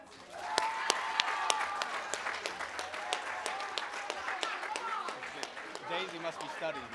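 A middle school awards ceremony audience claps for the Students of the Year, bursting into full applause with sharp individual claps, then thinning out under voices.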